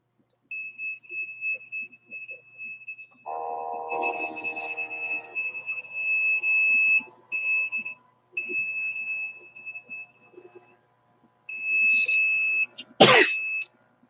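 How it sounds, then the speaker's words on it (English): A single sharp cough near the end, preceded by steady electronic beeping tones and a brief burst of buzzing in a quiet room. "And that cough is because my throat is being hit."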